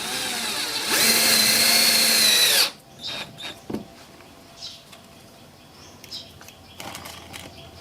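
A power drill drives screws into a fiberglass boat hull during a leak repair, a loud high-pitched whir lasting under two seconds, followed by quieter clicks, knocks and handling noises.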